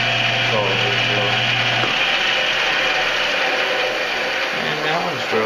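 A power drill drilling holes in a part gives a near, loud grinding, ratcheting whir. A low motor tone drops out partway and rough mechanical rasping continues to the end.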